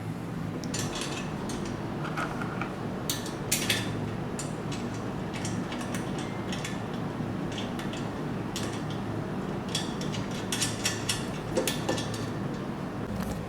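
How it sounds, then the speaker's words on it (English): Bolts on a turbo compressor housing of an E36 drift car engine are tightened with a ratchet, giving repeated short metallic clicking bursts over a steady background hum, close and without talk. "I can now tighten the bolts in the compressor now that I have my alignment on where I want it"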